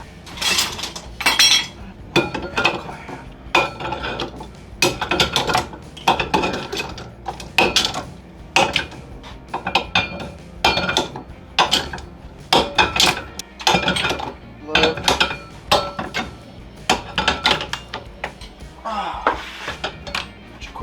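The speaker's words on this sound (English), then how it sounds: "let's see how many clamps we can put on this thing" Metal clamps clanking and clinking as they are hung one after another on a wooden clamp rack in a workshop, a steady series of close, sharp metallic knocks and rattles with no talk.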